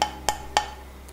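A small piece of oven-bake clay tapped three times in quick succession, giving dull, light, plastic-like clicks that are close and clear.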